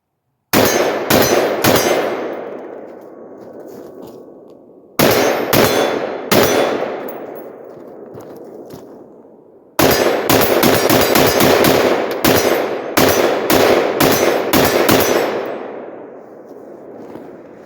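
Sig M400 AR-15 rifle shots ring out against steel targets in three volleys, each a quick string of sharp cracks with bright metallic clangs, the last volley the longest, loud and close with ringing decay between groups.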